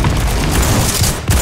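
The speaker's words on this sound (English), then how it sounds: "First shot was a miss, but the second one did kill you." Gunfire in the Phantom Forces video game: dense, loud bursts of shots and booming reports that fill the moment, with no pause and no voice.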